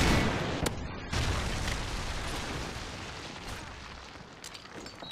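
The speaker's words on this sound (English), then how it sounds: "Missile inbound." Missile strike explosions in Call of Duty: Modern Warfare 3 rumble and boom one after another, with sharp blasts near the start and a long, dense, rolling roar of debris and fire that gradually thins out.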